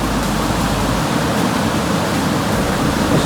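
Steady rushing water fills the whole stretch, a continuous loud broadband wash like a stream or small waterfall close by, with no voices over it.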